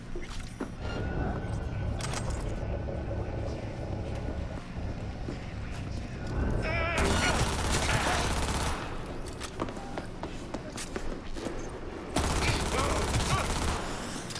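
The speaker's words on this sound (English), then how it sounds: "This rifle is great. Definitely much better than the last one." Rifle fire in the video game Cyberpunk 2077 sounds in loud, sustained bursts over a constant background of game ambience, with two heavier stretches of shooting partway through and the end.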